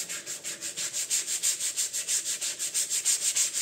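Sandpaper is rubbed by hand over dry wood in quick, even back-and-forth strokes, about five or six per second, giving a close, steady, rhythmic scratchy rasp with no voices.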